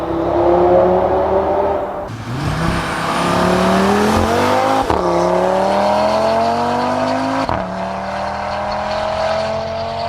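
An Audi RS3 on its stock exhaust revs hard through repeated rising sweeps, with sharp breaks between gear changes, loud and close with no talking.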